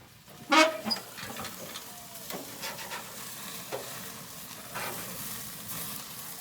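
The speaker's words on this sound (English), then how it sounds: "If those flames get too much for you, you can come in with a little bit of beer. Kind of douse them." Burgers and sausages cooking on a gas grill with beer splashed in to douse flare-ups: a sharp hissing burst near the start, then a steady low sizzle with scattered crackles and scrapes, no talking.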